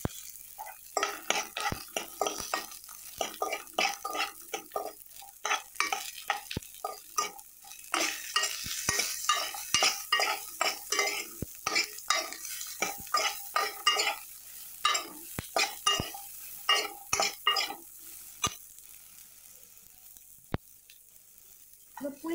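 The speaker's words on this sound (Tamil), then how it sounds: "லேசாக பச்சை வாசனை போற வரைக்கும் வதக்கி விட்டுருங்க" Ginger, dried red chillies and coriander seeds being sautéed in a pan, with repeated close scraping and stirring strokes in an uneven rhythm over a faint sizzle, and no voices.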